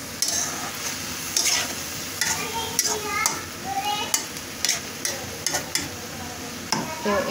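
Onion stirred into a pan of vegetables for a Chinese-style mixed vegetable dish, with a soft sizzle under repeated scraping and clattering strokes of a spatula against the pan, close and rhythmic.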